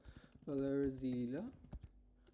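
Close keystrokes on a computer keyboard tap in quick, uneven bursts, with a brief voice-like tone sounding over them partway through.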